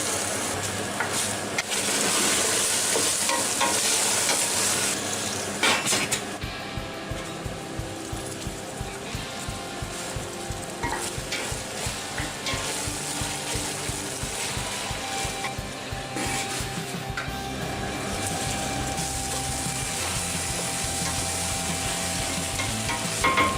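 Green beans sizzle and fry in oil with onion and tomato paste for a Turkish vegetable stew, with steady crackling, stirring scrapes and a brief high hiss near the start, heard close and without talk.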